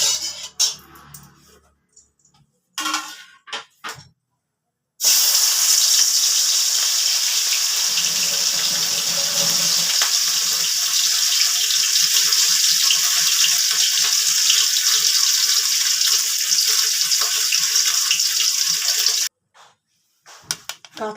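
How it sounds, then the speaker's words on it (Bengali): Katla fish pieces fry in oil in a kadai, producing a loud, steady sizzling hiss that runs for about fourteen seconds. Brief clatter comes before it, and the sound cuts off near the end. "আগে কাতলা মাছগুলোকে আগে ভেজে তুলে নিচ্ছি।"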